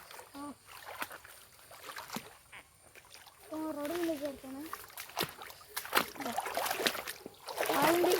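Splashing steps wading through rain floodwater, irregular and close, under people talking, growing louder toward the end.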